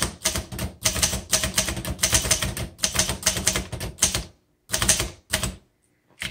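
A 1956 Underwood Golden Touch manual typewriter clatters under quick, close keystrokes in dense bursts, broken by a couple of short pauses, with no voices over it.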